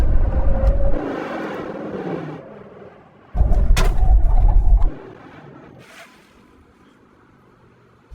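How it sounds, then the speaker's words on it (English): Ford F-150 VelociRaptor 6x6 and Hennessey Venom775 pickup trucks make a full emergency stop from 70 mph: loud engine and tyre roar in two bursts, then a quieter fading rumble as they come to rest. "Now we're going to have a brake test from 70 miles an hour."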